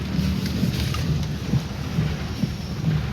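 Heavy monsoon rain pours steadily outdoors, a dense close hiss with low rumbling underneath and no voices.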